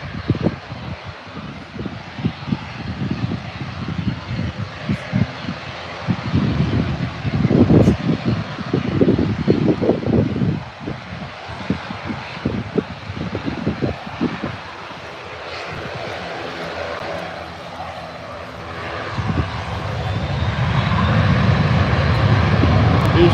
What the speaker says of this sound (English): The jet heading out now with your Aer Lingus ATR following that shortly just on the taxiway here